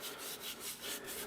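An old brush rubs paint onto a model stone in dry, scratchy strokes that repeat roughly every half second, close and steady with no talking.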